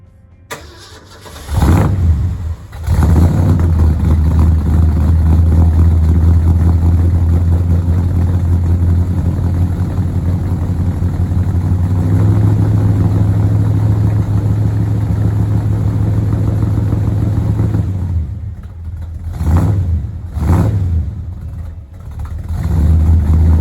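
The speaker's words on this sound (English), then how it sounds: "Let's do a cold start on it," A Ford F100 4x4 pickup with dual exhaust cold-starts after a brief crank, then settles into a loud, steady low idle with a slight rise partway through, and gets a couple of quick revs near the end.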